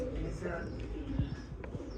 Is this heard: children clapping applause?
no